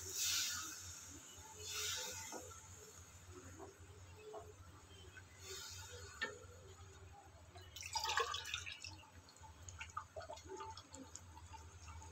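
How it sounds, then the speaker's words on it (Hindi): Water poured into a pan of stuffed parwal curry, heard as quiet splashing and trickling in a few short bursts against a soft background hiss. "इसमें हमें पानी ऐड कर देंगे"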